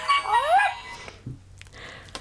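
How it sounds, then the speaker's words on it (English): A noise-making greeting card plays a tinny electronic barking-dog sound, a loud whining yelp at first, then fainter clicks and bits of handling noise. "It's the barking dog."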